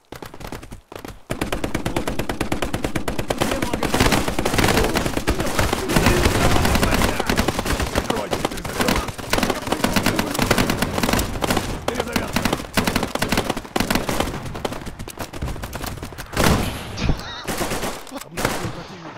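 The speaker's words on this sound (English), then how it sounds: "Gun." Relentless gunfire from the shooter game Operation: Harsh Doorstop on a chaotic training grounds map, dense overlapping rifle and machine-gun bursts crackling nonstop for most of the stretch before thinning near the end.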